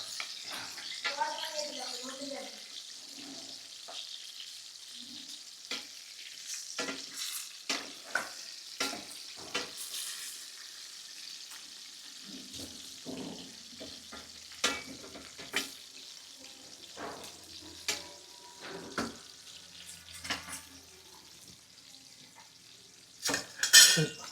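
Stuffed brinjal (gutti vankaya) frying in a pan while being stirred, with a steady sizzle and repeated scraping and clinking strokes of a spoon against the pan throughout.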